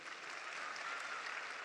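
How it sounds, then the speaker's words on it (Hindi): Steady, dense applause from a large audience at the Kanpur Dehat Mahotsav comedy show, sustained evenly throughout with no break. "डीएम कानपुर देहात के ये हमारी नेहा जैन जी के लिए जोरदार तालियां प्लीज"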